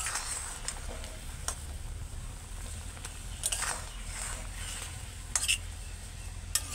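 A spoon stirs Kashmiri chili powder into an oil-free sweet, sour and spicy raw mango pickle, scraping and clinking against the pot in sparse, quiet strokes over a low background hum.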